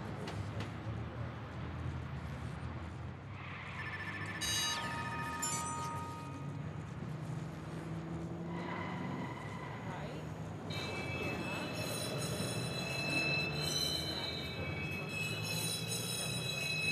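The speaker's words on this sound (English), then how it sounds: "Southbound train, arriving shortly." A southbound train pulls in within the video game Watch Dogs, its rumbling approach carrying high squealing wheel tones and faint announcement-like chimes, all heard fairly quietly over steady background noise.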